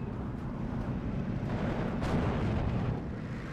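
A 25-pounder artillery gun fires in a video game, giving a deep, rolling boom that swells and rumbles on steadily through the whole stretch.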